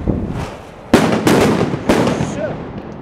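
Consumer fireworks going off in Valencia on a rainy, windy night, three sharp, loud bangs in quick succession over steady background noise, followed by a crackling fizz as they fade.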